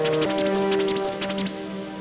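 A UVI Mission 6 synth arpeggiator on its default preset pulses in a fast, even stream of repeated bright notes over a sustained tone, steady and close with no voices.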